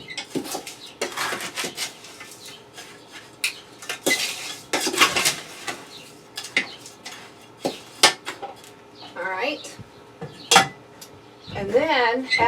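Dried milk and other fertilizer ingredients mixed together in a container for planting Better Boy tomatoes, producing busy clattering, scraping and rattling of a utensil against the container in irregular close bursts, with a brief voice-like sound near the end.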